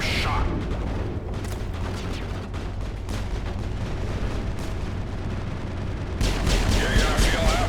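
Gunfire in the Mass Effect video game: a dense, continuous barrage of shots and impacts runs throughout, loud and close, with a heavier burst near the end.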